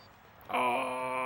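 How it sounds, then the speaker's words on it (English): Siren-like wailing tone in Mario Kart: Double Dash, a sudden loud harmonic wail that starts abruptly and holds steady to the end. "What was that noise? Sounded like a siren."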